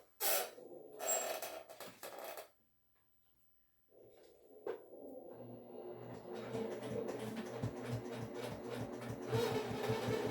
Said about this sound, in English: go back to the sewing machine and make that division stitch